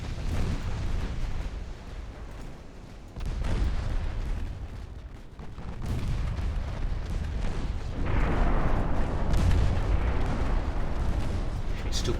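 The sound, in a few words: naval gunfire from light cruisers in Ultimate Admiral Dreadnoughts video game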